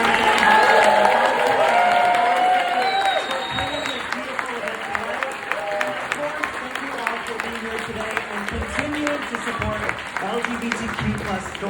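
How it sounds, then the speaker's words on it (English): An audience claps at a Critics Choice Association LGBTQ+ celebration, with loud applause at the start that thins into scattered clapping as a voice speaks over it. "let's give a huge round of applause to today's producers, Madeline Harris."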